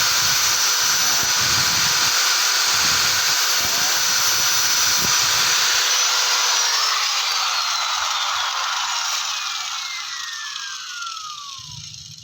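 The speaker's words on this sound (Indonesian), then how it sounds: "Caranya menggerinda seperti itu guys ya, dari bawah jangan sampai dari atas." A handheld grinder works a metal part from below, a loud continuous high-pitched whine with the pitch slowly dropping, and low scraping contact noise through the first half.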